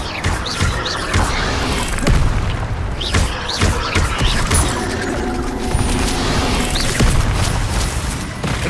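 The Incendio fire spell is cast in Hogwarts Legacy, a loud booming whoosh and crackle of flame bursting amid repeated thuds and impacts, with a voice calling out over the clashing combat noise.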